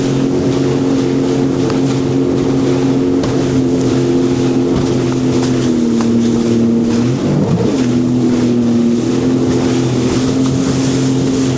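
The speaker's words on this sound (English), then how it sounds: "Yeah, you got a Sea-Doo, jet ski, a wave runner, whatever." A Sea-Doo jet ski runs on the Niagara River with a steady, droning engine note, briefly dipping and wavering midway, under constant wind buffeting and water rush close to the microphone.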